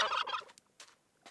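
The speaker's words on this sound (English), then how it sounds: "Loud turkeys." Turkeys gobble loudly in a modded Minecraft game: a long, rattling gobble burst up front, then a few shorter, fainter gobbles spaced apart, with no talking.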